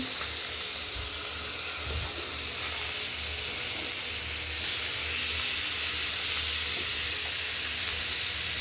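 Bitter gourd and pumpkin sizzle in hot oil in a kadai, a steady loud hiss of frying that fills the whole stretch with a few faint clatters, no voices.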